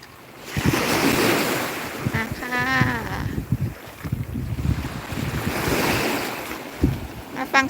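Ocean waves wash and roll continuously, with gusts of wind buffeting the microphone and brief splashing surges.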